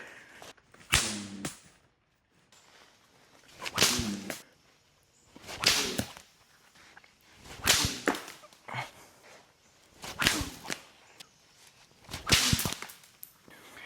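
A rock whirled in a shepherd's sling beside a creek makes about six loud, whip-like whooshes, each a sharp swelling rush of air, evenly spaced around two seconds apart with quiet between them.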